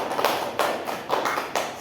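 Students in a classroom clap their hands in a few short, lively rounds of applause, close and moderately loud.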